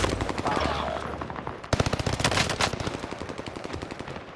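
Rapid bursts of automatic gunfire from an online shooter game, dense and continuous machine-gun fire up close, with a player's voice faintly underneath.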